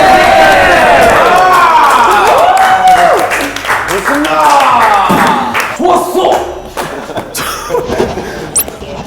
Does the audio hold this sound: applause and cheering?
yes